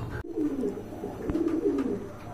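Pigeons of the black gola breed, kept as pairs for sale, coo in low, throaty rolling calls that run close and continuous, with faint background sounds behind.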